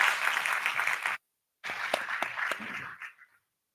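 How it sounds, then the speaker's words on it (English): A keynote audience at the Enlit Africa energy event claps steadily. The applause breaks off for a moment, then resumes with sharp individual claps before fading away. "Let's continue clapping until this year"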